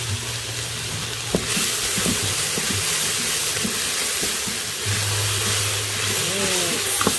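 Garlic and celery sizzle and fry steadily in an Instant Pot on the saute setting, a continuous close crackling hiss with occasional stirring clunks underneath.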